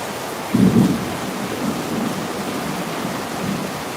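Heavy rain pours steadily with a low rumble of thunder early on, a loud, dense hiss of falling water that fills the whole clip.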